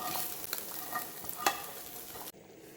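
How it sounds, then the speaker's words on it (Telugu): Drumstick leaves (moringa) frying in a pan while being stirred, a steady close sizzle broken by scraping stir strokes, then cutting off abruptly near the end as the heat goes off. "ఈ మునగాకు మంచిగా ఫ్రై అయిపోయింది."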